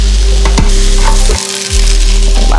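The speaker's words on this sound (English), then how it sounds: "And then we're going to go in with our peppers." Peppers dropped into a hot pan and frying, a loud close sizzle with a brief dip midway and a few clatters of stirring, no voices.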